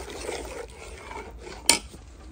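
A pot of seeraga samba chicken biryani being stirred, with a soft continuous scraping and rubbing close by and one sharp clink of the spoon against the pot near the end.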